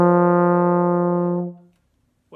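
A single brass instrument plays a sustained, steady tone with rich harmonics for about a second and a half, then fades into silence. It is a grade 2 study phrase built on a scale pattern.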